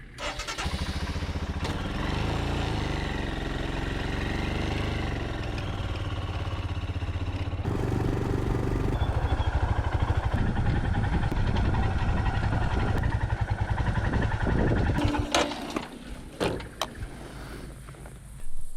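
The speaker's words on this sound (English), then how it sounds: "I got back on the bike, but only for a very short trip." Motorcycle engine running steadily throughout a short ride on Tasmania's West Coast, loud and continuous with shifting pitch, then dropping back toward idle and uneven bursts near the end.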